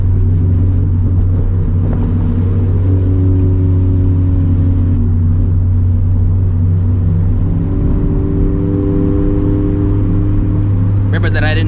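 A turbocharged 350 HP FRS car is driven gently, its steady, loud, low engine drone holding an even pitch throughout, with a brief rise in tone near the end.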